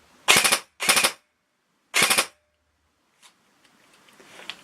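ASG Scorpion EVO 3A1 airsoft gun firing three short, sharp rapid bursts, close and loud, each followed by silence, then faint clicks and rustling.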